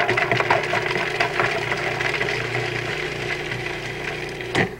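Blender blade chopping a few garlic cloves, a dense buzzing, rattling whir running continuously at close range with small bumps and a brief louder burst near the end.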